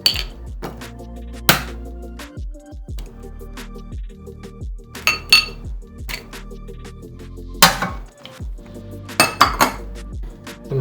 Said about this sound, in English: we are going to break 5 large eggs